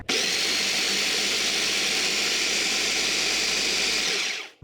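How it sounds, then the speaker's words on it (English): A Cuisinart food processor blends oats into flour for banana bread with a loud, continuous grinding whir lasting a few seconds, then cutting off abruptly. "To blend the oats into flour, I am using my Cuisinart food processor"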